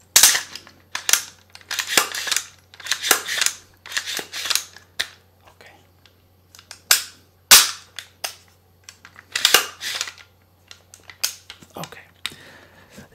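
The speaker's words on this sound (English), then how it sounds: "Since a lot of people want to hear rifle ASMR, I'm just going to try and do a couple" A rifle's action is worked and released with the chamber empty, giving a run of sharp, close metallic clicks and clacks in irregular bursts, some loud and snappy, others lighter, with quiet gaps between them.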